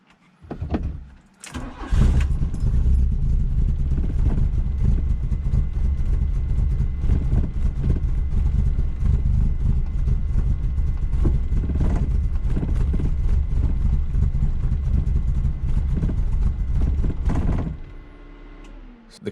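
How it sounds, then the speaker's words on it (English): A Mk1 Volkswagen engine cold-starting, catching after a brief crank and then running at a rough, uneven idle that struggles to stay steady for about fifteen seconds before cutting off, heard close up with no talk. "The car does not want to hold idle when you first start it."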